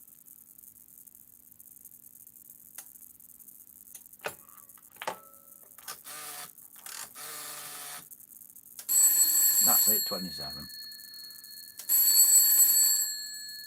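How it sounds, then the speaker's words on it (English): An old telephone exchange in a shed rings a phone set on top of it: two loud sustained bell rings with a pause between, following clicks and clunks of the exchange switching, with someone speaking briefly. "And that's ringing the phone sat on top of it up there."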